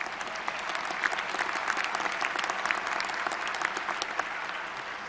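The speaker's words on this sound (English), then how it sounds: "join me in a round of applause to recognize the class of 22 as well as their family and friends" Sustained applause from a large audience at a 2022 graduate studies commencement ceremony for the graduating class, a dense, steady clapping that holds at an even level for several seconds with no voices over it.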